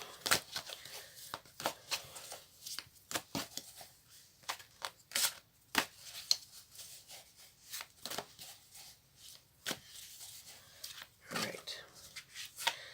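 Oversized tarot cards are handled close by, giving a run of soft, irregular slaps, flicks and rustles that come in scattered clicks across the stretch, with a voice speaking at times.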